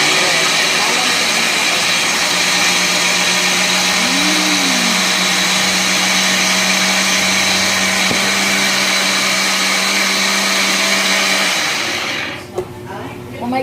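A kitchen blender runs loud and close with a steady high whine and a brief pitch wobble, then cuts out abruptly near the end as the motor stalls on too little water.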